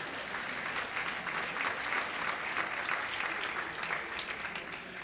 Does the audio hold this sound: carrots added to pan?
no